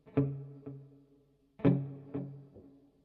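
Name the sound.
guitar reverb effect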